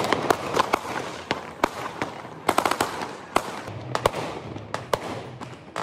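Homemade firecrackers explode in a loud, irregular string of sharp bangs and cracks, some in quick bursts and others spaced apart, with no talking.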